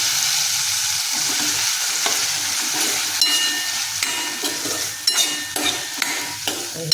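Potato and eggplant slices sizzle and fry in a pan of masala with chili powder, with steady frying hiss and scattered scraping clicks of a spatula stirring them, fairly close and without talk.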